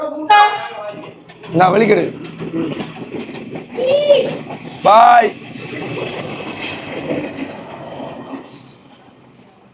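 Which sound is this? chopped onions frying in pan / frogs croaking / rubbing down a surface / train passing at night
train passing at night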